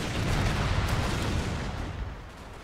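Heavy cannon fire from a battle in the strategy video game Fall of the Samurai, a dense, loud rumble of overlapping booms that swells and then eases slightly, with no talking.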